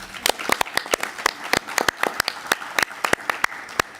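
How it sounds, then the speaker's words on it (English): An audience at an Organization of American States event gives applause, with distinct individual claps in an irregular rhythm over a light background of scattered clapping. "I think they deserve a round of applause."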